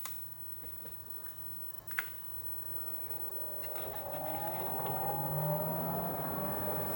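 Metal lathe shifted into back gear, its motor and gearing winding up from a quiet idle into a rising whirring drone that settles at a slow steady speed, with a sharp click near the start.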